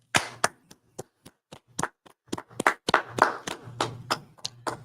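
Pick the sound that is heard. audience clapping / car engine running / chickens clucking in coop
audience clapping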